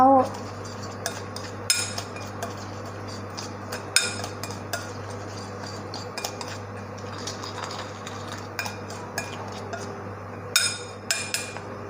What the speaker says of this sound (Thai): จากนั้นก็คนส่วนผสมให้เข้ากันนะเจ้า